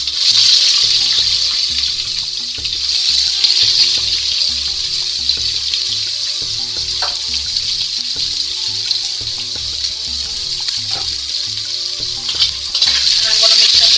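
Whole garam masala spices sauté in oil in a pot, a loud, constant bright sizzle that runs throughout with a few faint clinks.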